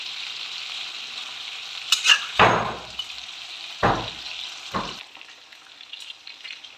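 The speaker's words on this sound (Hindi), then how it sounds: "मीडियम फ्लेम पर हम इसको फ्राई कर रहे हैं" Chicken fries in a kadai over a medium flame, giving a soft steady sizzle broken by several sharp metallic clanks and scrapes of stirring.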